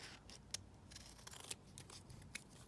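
Scissors snip through the end of a strip of craft paper, giving a few sharp, quiet cuts with soft rustling between them and no voices.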